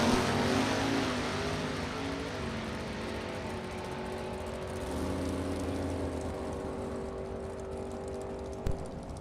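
A Camaro and a 1967 Chevelle launch side by side down a drag strip, engines roaring loudly and then fading as they pull away, with a brief sharp bang near the end.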